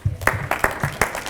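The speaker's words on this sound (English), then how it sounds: "give all parents a round of applause" An audience at a school assembly claps for the parents in a short burst of sharp, scattered hand claps, close and fairly loud.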